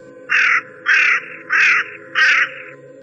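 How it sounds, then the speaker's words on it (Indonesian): A crow perched on a branch in a ravine on Mount Lawu gives four loud, harsh caws at an even pace, close by, over a low background hum. "Gagak itu kembali berisik."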